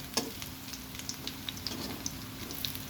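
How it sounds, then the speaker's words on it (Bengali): Lentil fritters (peyaju) made from masoor and small pea dal frying in hot oil, a soft steady sizzle with scattered crisp pops and ticks, quiet and close, with no talking. "অনেকক্ষণ ধরে ভাজতে হবে তাহলে খুবই মুড়মুড়ে এবং খেতে অসাধারণ লাগবে"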